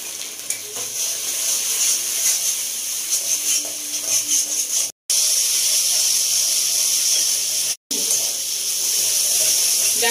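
A paste of cashew, melon seeds and poppy seeds sizzles and hisses steadily in hot oil for a Bengali prawn malai curry, close and continuous, with two brief dropouts.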